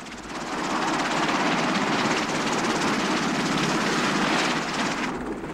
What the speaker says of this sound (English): The Guam carries some 25 Sikorsky CH-46 Sea Knight and CH-53 Sea Stallion helicopters in the assault role